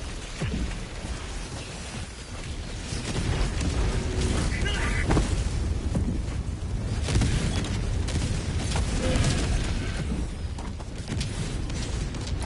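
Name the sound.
napalm barrage explosions in video game Helldivers 2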